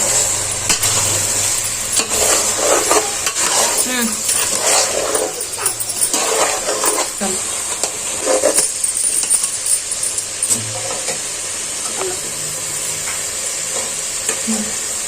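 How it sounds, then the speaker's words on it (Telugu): Chicken curry being stirred and fried in a pan, a steady sizzle with scraping stir strokes throughout, and a dog barking and whimpering intermittently in the background. "ఇప్పుడు అంతా ఒకసారి బాగా కలుపుకుందాము."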